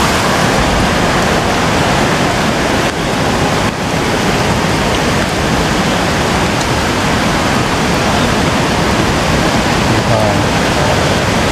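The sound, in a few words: large river flowing strongly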